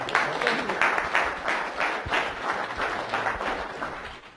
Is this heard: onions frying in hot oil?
no